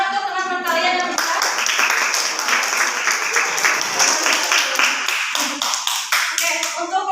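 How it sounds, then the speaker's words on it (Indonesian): Students in a classroom applaud during a religious studies lesson, with brisk, close clapping lasting several seconds between a teacher's speech at the start and end. "Tepuk tangan untuk teman-teman kalian yang bisa."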